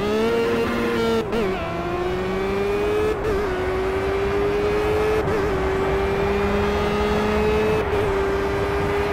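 Formula Renault race car in a racing video game at Imola, its engine holding a steady high whine with brief dips at each braking point and gear change, loud and continuous with no talk.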